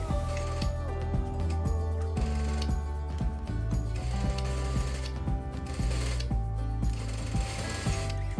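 A sewing machine runs steadily while stitching a frill collar onto the neckline of a vintage dress, a continuous close mechanical whir with rapid rhythmic ticking and brief changes in pace, with no voices.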